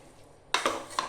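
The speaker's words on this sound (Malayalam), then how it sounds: "നന്നായി ഇളക്കുക." A spoon scrapes and knocks in a pot of beef and plantain curry, three quick clinks close by over a quiet background.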